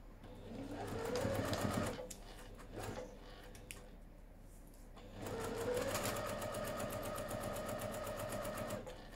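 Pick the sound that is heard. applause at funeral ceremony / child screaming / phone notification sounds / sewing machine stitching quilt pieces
sewing machine stitching quilt pieces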